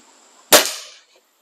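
A single sharp crack from a Diana 34 spring-piston air rifle, close and loud, with a short ringing decay trailing into quiet.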